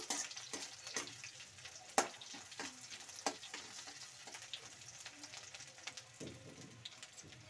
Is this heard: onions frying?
yes